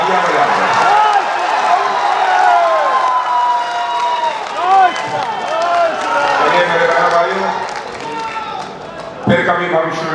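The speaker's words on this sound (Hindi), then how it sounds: "तालियां बजा दो।" Political rally audience in India clapping and cheering loudly in a continuous burst, with voices calling out over the clapping and a sharp jolt near the end.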